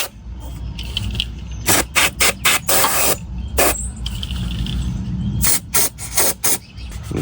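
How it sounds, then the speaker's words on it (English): CRC Brake Clean brake cleaner sprays in bursts onto the CVT transmission cooler heat exchanger of a 10th-gen Honda Accord, a run of loud, close hissing blasts separated by brief pauses, with mechanical rattling between them. "Get a little bit more spray."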